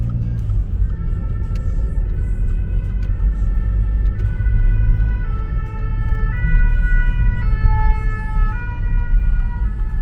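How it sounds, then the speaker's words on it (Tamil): An ambulance siren approaching from behind on a road in Paris after snowfall, its wailing tones rising and falling loudly over the steady rumble of a car's engine and road noise. "பின்னுக்கு ஆம்புலன்ஸ் வருது"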